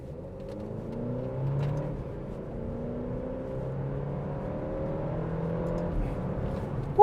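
A 2024 Alfa Romeo Stelvio facelift SUV with a paddle-shifted gearbox accelerates hard, its engine note droning steadily and rising in pitch through the gears, heard from inside at a moderate level with no talking.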